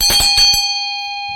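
Several quick strikes of a classic traditional metal bell from a bell and vajra set, followed by a clear, steady ringing tone that sustains and slowly decays, close and loud.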